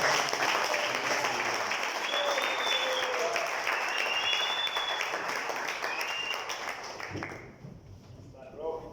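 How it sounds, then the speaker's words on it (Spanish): A church congregation at a fasting and prayer service applauds steadily, a dense wash of clapping with a few voices calling out over it, then fading out near the end. "Démosle un fuerte aplauso a Dios"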